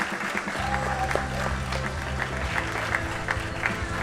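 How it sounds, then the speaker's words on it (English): A crowd applauds a junior woman powerlifter at a world classic powerlifting championship. Steady clapping fills the hall close and loud, and voices can be heard over it. "big applause for this woman"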